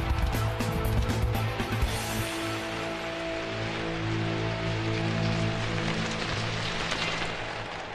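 Rain falls during a football video game match as a steady wash of hiss. Sustained tonal music or game sound sits under it, and there is no speech.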